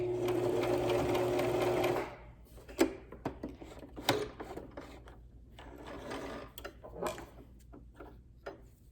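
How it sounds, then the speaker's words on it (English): A sewing machine stitching face mask fabric runs in a steady close whir for about two seconds, then stops, followed by scattered clicks, thumps and mechanical handling noises. "we're going to reverse about 3 stitches and then sew off of the fabric"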